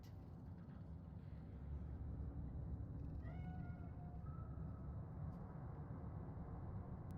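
A cat in Cyberpunk 2077's Night City gives a short, faint meow or two. The sound sits against a steady, heavy rumble of traffic or machinery that runs the whole way through.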